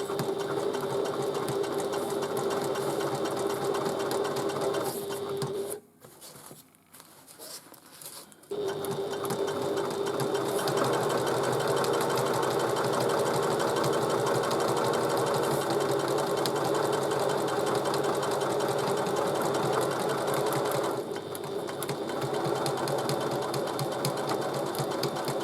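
A sewing machine stitches around a bag in a long, loud, steady whir, stopping briefly after about six seconds and then resuming with a strong, even hum until the end. No one speaks.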